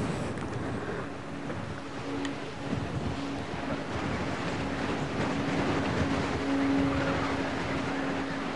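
Steady wind gusts across an open golf course at the US Open, a constant broad rushing roar with low rumbling buffeting on the microphone and no voices.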